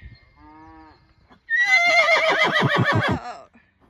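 A young horse bucks and plays in a field, letting out a loud, close whinny that quavers for about two seconds, preceded by a fainter, shorter neigh.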